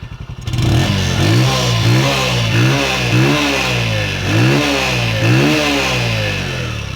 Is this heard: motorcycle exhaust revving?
yes